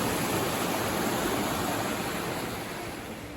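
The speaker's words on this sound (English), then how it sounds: "The way the rocks and the water flows seamlessly along the banks of the river." River water rushes along rocky banks in a dense, continuous, fairly loud flow with no talk, easing slightly toward the end.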